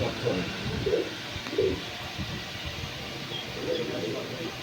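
Pigeons in a loft give soft, low coos in short spaced bursts against a faint, steady background.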